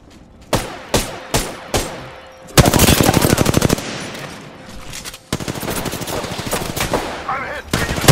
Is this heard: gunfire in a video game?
yes